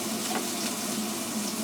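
Dried shrimp, ginger and garlic fry in a little oil, giving a steady, close, moderate sizzle with a soft crackling hiss throughout and no talking.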